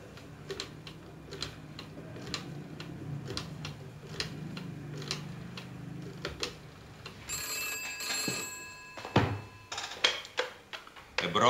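A telephone rings repeatedly as a call is placed, a steady pattern of faint, evenly spaced rings that ends in a louder handset clatter, heard in a quiet room.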